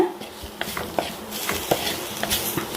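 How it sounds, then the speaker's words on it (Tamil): Turmeric, coriander and chili powders being stirred and sautéed in a pan for an ayala fish curry, a soft sizzle under irregular scraping and clinks of a spoon against the pan, close and moderately loud. "மஞ்சத்தூள் மல்லித்தூள் அப்புறம் மிளகாத்தூள் பொடியெல்லாம் போட்டு நல்லா ஒன்று வணக்கி கொடுங்க"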